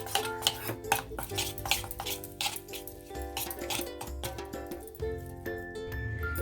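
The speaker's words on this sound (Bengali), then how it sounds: "এবার ভালো করে আমি মিক্সড করব এটা সব মশলাগুলো ভালোভাবে এভাবে মিশিয়ে নিতে হবে" Chicken pieces being mixed by hand with spices and a spoonful of oil in a bowl for chicken lollipop, giving steady close clinks, scrapes and wet squelching against the bowl, continuous with no talk.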